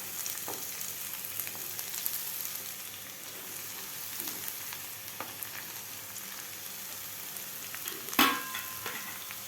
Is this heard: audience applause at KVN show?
no